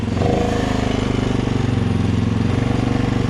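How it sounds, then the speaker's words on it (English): A Honda 500 ATV idles loudly with a fast, steady pulsing chug and a metallic rattle from a loose heat shield running through it, no voices. "Heat shield's rattling like crazy"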